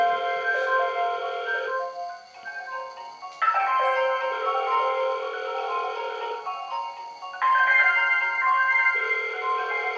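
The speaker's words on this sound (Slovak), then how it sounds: "keď príde zvonenie na druhý telefón" A Hikvision DS-KH6320WTE1 video intercom call rings on a second phone as a steady, melodic electronic ringtone that repeats in phrases, loud and close, with no talking over it.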